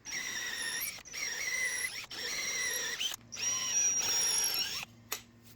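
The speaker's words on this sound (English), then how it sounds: "pre-drill those holes for lag bolts" A power drill whines in several sustained bursts with brief pauses between, a high-pitched squealing motor pre-drilling lag bolt holes in reclaimed hardwood, close by.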